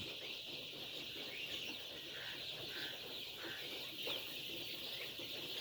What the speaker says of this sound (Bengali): এই যে মুরগি দৌড়াদৌড়ি করতেছে